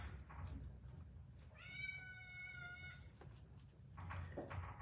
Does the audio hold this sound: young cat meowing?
yes